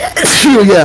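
A single sharp sneeze bursts out close and loud, and a brief spoken word follows it.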